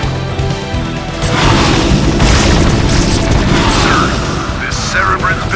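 A Cerebrate blowing up in StarCraft Brood War Remastered, a loud, sustained rumbling explosion and crashing battle noise filling the scene, with game voice alerts mixed in.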